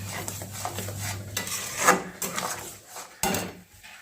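A spoon scrapes and rubs in a pan as sugar is stirred into a grated carrot mixture for carrot rasmalai, with irregular close scraping and clinking strokes and no talk.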